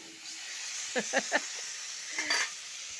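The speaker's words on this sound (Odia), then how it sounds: "ବେସର ଦେଇ ଶୁଖୁଆ ଭଜା" Dried fish with mustard paste fries quietly in a pan, giving a soft, steady sizzle broken by a few short crackles and pops.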